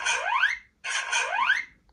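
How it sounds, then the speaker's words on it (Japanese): Two identical rising electronic chirp bursts, each about three-quarters of a second with a short gap between, come from the standby function of a Kamen Rider Birth CSM driver toy. "これは BGM のスタンバイ機能の音でした"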